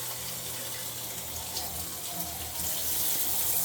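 Water runs steadily from a shower fitted with a newly replaced thermostatic mixer valve, a continuous close hiss and splash that swells slightly louder near the end, with no talking.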